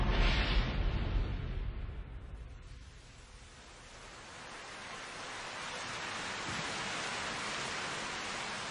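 Steady rain falls at night, a dense, even hiss of drops that starts strong, dips briefly, then swells back to a constant wash with no voices over it.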